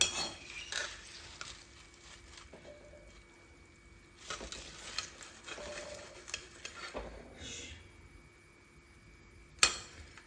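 Fried banana chips being lifted out of hot oil in a home kitchen, with scattered clinks and scrapes of a utensil against the pan over a faint background hiss, plus one sharp clank near the end.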